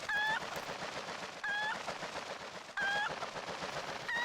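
A chicken in the video game Zelda: Twilight Princess gives repeated short squawking clucks, about one every second and a half, over a steady background bed.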